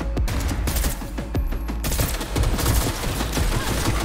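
Rapid weapon fire in Cyberpunk 2077, a close, loud run of dense repeated shots with a brief thinner gap partway through.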